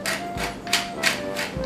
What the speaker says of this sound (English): A few grinds of pepper.